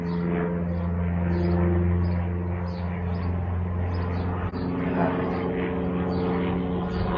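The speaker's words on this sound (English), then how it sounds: "there you have bloody aeroplanes again." A propeller aeroplane drones steadily overhead, a loud continuous engine hum with a low pulsing tone that holds throughout.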